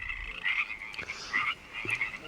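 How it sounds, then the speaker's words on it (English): Frogs croak outdoors in a chorus of repeated, rasping calls, several overlapping bursts coming in quick rhythmic pulses at moderate distance, with no voices. "Frogs are having an active orgy behind us, and it's quite serenading"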